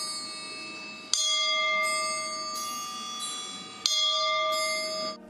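A military band at Dnipro airport strikes bells made from 152 mm shell casings, sounding two bright metallic strikes a few seconds apart, each ringing on with long sustained tones.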